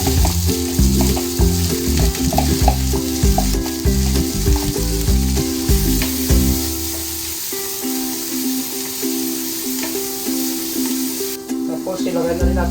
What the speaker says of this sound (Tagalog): mainit na yung mantika, igisa na natin itong sibuyas, bawang